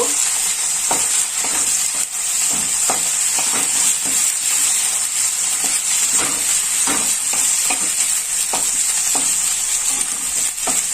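Ginger and garlic paste fries in a pan over medium heat, a bright continuous sizzle with regular scraping stirs from a spoon, close and loud throughout.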